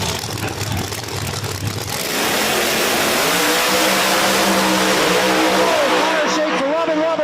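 Drag racing cars, a Nova and a Firebird, launch and accelerate at Virginia Motorsports Park, a loud sustained engine roar with rising pitch and gear changes filling the whole stretch, with talk underneath.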